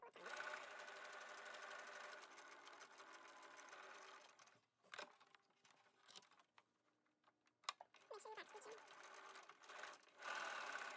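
A sewing machine stitching across the pleated ends of a fabric face mask, close and loud in fast whirring bursts broken by short pauses and clicks.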